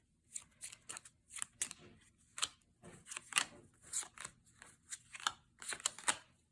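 Close, crisp riffling and snapping of playing cards being shuffled in repeated short bursts, with quiet gaps between.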